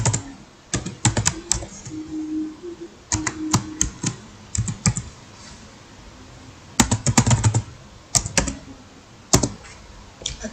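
Keys clatter on a computer keyboard in quick bursts of typing separated by short pauses, close and crisp, with no talking.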